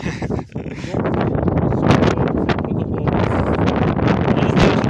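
Strong wind buffets the microphone in loud, roaring gusts that continue throughout, nearly drowning out everything else, outdoors at a village house.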